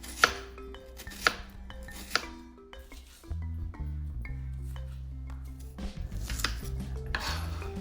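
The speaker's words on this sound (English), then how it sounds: "So we are going to start by cutting our onion. Just chop it up in chunks." Onion is chopped into chunks on a board, with a few sharp knife knocks near the start, then denser rhythmic chopping taps over a low hum, close and fairly quiet.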